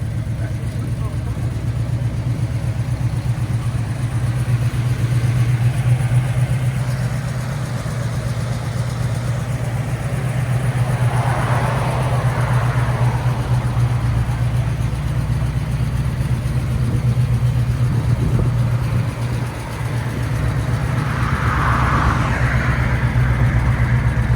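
A 1968 AMC AMX with a 401 V8, long-tube headers, true dual exhaust and quiet stock mufflers idles with a steady, loud, even rumble throughout, while someone talks nearby.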